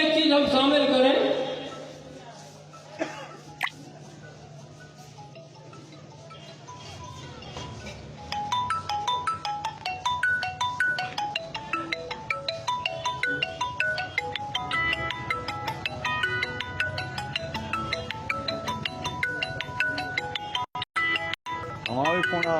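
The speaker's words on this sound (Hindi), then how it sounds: "हमारा भी फोन आ रहा है, कोई फोन आ रहा है।" Mobile phone ringtone plays as a bright repeating electronic melody, fairly loud and continuous for many seconds, with someone talking before and over it at a comedy stage show.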